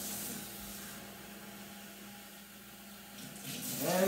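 Tap water runs steadily into a measuring cup at a kitchen sink while rice is being prepared for a red Thai cod curry, a continuous moderate hiss that swells louder toward the end as the cup fills.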